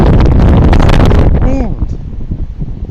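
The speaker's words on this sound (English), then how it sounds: "Wind!" Strong wind blows across a river during ultralight fishing and roars loudly into the microphone, with a voice cutting in briefly partway through.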